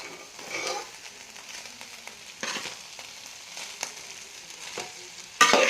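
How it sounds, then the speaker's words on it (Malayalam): Cooked egg and vegetables get stirred through rice in a pan, a soft frying sizzle broken by repeated scraping strokes of a spatula, close up, ending in a sharp louder scrape, with no voices. "ഇനി നമ്മൾ ഈ പാനിൽ വേവിച്ച് വെച്ച മുട്ടയും വെജിറ്റബിൾസിലെ അതൊക്കെ അതിലേക്ക് ഇട്ട് കൊടുക്കാം. നല്ലോണം ഒന്ന് മിക്സ് ചെയ്തെടുക്കാം"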